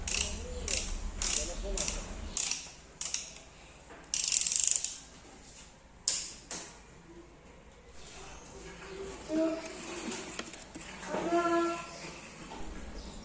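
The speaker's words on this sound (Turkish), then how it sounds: "Hava filtresinin bağlı olduğu kelepçeyi 10 lokmayla gevşetiyoruz." A 10 mm socket wrench loosening the air filter clamp on a car, giving a run of quick ratcheting clicks near the start, then scattered metallic taps and faint clinks under a soft background.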